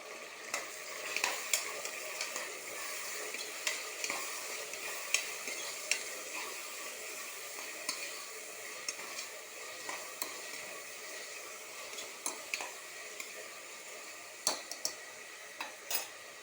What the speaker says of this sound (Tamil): தக்காளி நல்லா வணங்கணும்